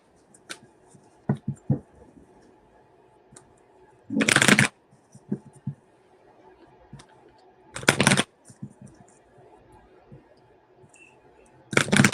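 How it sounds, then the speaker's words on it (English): A deck of cards is shuffled in three loud, dense riffling bursts spaced several seconds apart, with scattered taps and card handling in between and no talking. "I think this is the most that I've shuffled today."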